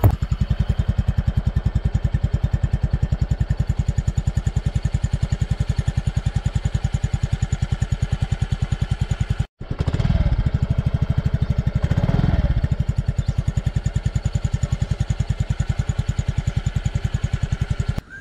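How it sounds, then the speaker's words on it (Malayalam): A 2020 Yamaha Fascino 125 BS6 fuel-injected scooter engine idling close by, a steady rapid putter that cuts out briefly, restarts and settles back into an even idle. "പുതിയ ഫസീനോൻ്റെ സൗണ്ട് ഒന്ന് ജസ്റ്റ് കേട്ട് നോക്കാം"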